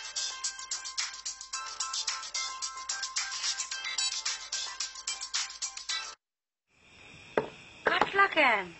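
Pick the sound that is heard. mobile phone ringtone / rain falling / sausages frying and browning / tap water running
mobile phone ringtone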